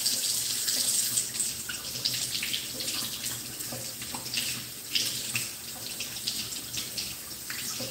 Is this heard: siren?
no